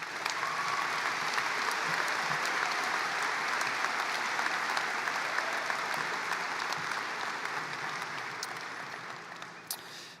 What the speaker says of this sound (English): So please join me and give a round of applause to my friend,